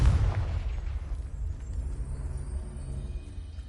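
A Confringo blasting spell detonates in a Harry Potter video game, a single booming explosion right at the start that fades into a low, lingering rumble.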